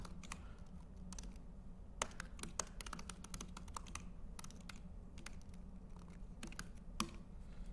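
Quick, uneven clicking of keys on a computer keyboard as code is typed during a programming lecture, faint and close, with occasional sharper keystrokes and no voices.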